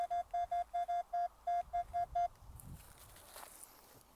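A metal detector sweeping a field during a treasure hunt gives a string of about ten short, even electronic beeps in quick rhythm, then falls quiet to faint rustling and handling noise.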